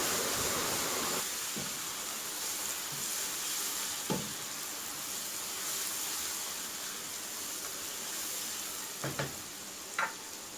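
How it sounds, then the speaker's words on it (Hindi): Garlic ginger paste frying in a pan makes a soft, faint steady sizzle, with a few brief scraping stir sounds, close by and without voices. "अच्छी तरीके से अब इस लहसुन अदरक के पेस्ट को भून लेंगे"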